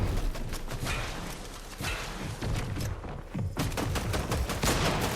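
Rapid video game gunfire sprays in repeated bursts, a fast rattle of sharp shots with a short lull midway before the firing resumes, fairly close and continuous.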